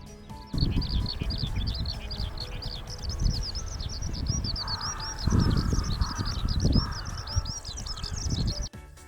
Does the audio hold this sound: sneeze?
no